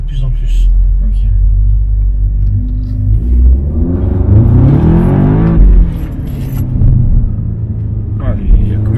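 Stage 2 Audi S3 8V with a tuned 380 hp engine revving hard and close, a loud rising roar that climbs around the middle and then settles into a deep idle rumble, with people talking over it.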